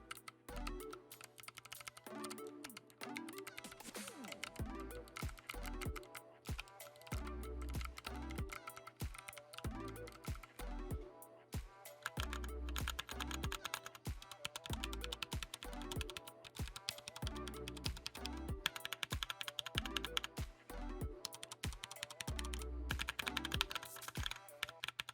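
A Ducky Mecha mechanical keyboard fitted with Kailh Box White switches is typed on continuously, a dense close stream of crisp clicky keystrokes with occasional heavier thocks, alone without talk.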